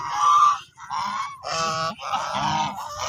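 Large male ducks honk loudly and close by in a rapid sequence of harsh, nasal calls, four or five bursts with short gaps, and no other sound.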